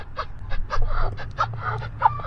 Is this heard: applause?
no